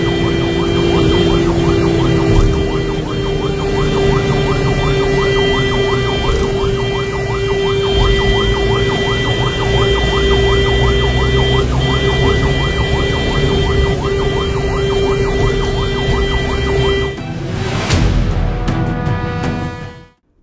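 An ambulance siren wails loudly and continuously, its rising and falling tone close by for about seventeen seconds, then breaks off into a burst of traffic and road noise. It is on the way to a hospital carrying a boy who nearly drowned in a pond.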